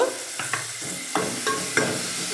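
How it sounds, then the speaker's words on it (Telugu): Onions, green chillies and curry leaves fry with ginger paste in a pan, giving a steady near sizzle with several sharp scraping stirs spaced through it and no voices. "ఉల్లిపాయలు, పచ్చిమిర్చి, కరివేపాకు ఎర్రగా వేగిన తర్వాత చూడండి అల్లం పేస్ట్ వేసుకోవాలండి"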